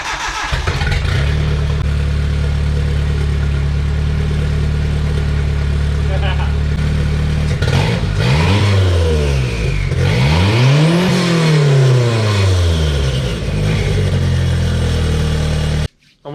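A turbocharged Nissan D21 pickup engine with a new custom stainless exhaust and smokestack pipe idles loud and close, then is revved several times with rising and falling sweeps before cutting off abruptly.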